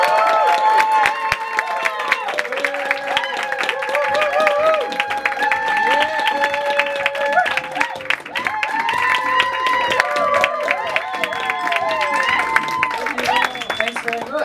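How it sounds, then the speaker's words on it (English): Audience applause and cheering at a Fringe comedy-science show, a lively crowd clapping continuously with overlapping chatter and voices throughout. "Let me hear a bit of applause!"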